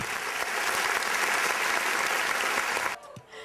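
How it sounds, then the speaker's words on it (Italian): Audience applause at a local Miss and Mister beauty pageant during the swimsuit parade, dense and steady clapping that cuts off abruptly near the end, leaving a quiet room. "Vai con l'applauso."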